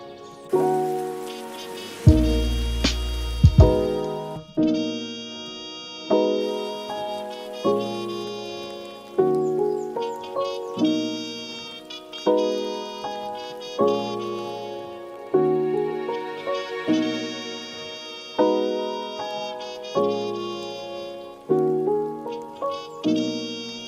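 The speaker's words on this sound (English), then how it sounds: "Let's just search for rain. I think rain might be better." A rain sample in Ableton Live 12 adds a soft, continuous patter beneath a repeating beat of plucked chord stabs. A brief louder burst sounds near the start.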